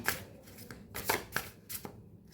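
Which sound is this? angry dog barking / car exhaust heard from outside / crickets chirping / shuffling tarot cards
shuffling tarot cards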